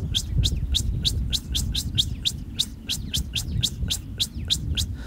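A blackbird's alarm call: rapid series of sharp, high ticking calls repeating steadily, loud and insistent, over a low rumbling background.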